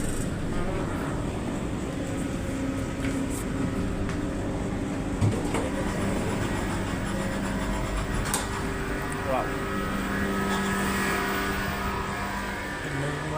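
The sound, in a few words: metro train ride arriving at Lusail, Qatar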